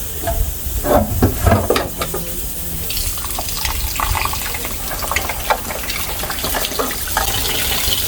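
Goat meat for curry is washed and stirred by hand in a basin of water, with steady sloshing and splashing, close and fairly loud throughout.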